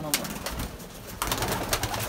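Pigeons in a coop coo softly and close by, low throaty calls repeating in a loose rhythm with faint fluttering and rustling around them.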